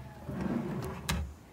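A solid wood soft-close drawer on a large four-drawer closet unit slides shut with a smooth, muffled rumble and ends in a gentle damped thud.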